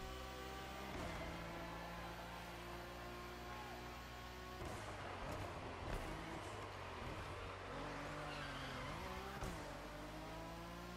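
A racing car in The Crew accelerates along a straight, its engine droning steadily and rising in pitch through the gears, with a whine and a brief tire noise, quiet and continuous throughout.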